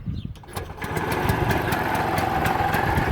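A Piaggio Ape 600 MP three-wheeler engine, one that smokes and spits oil, idles close by with a steady, buzzing mid-pitched chug and rapid regular firing pulses, loud and continuous after a brief quieter start.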